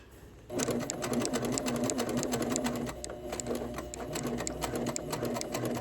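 A sewing machine fitted with a quarter-inch presser foot with a thin opening stitches a quilt block, a steady close whir starting after a brief pause and running continuously with slight speed changes.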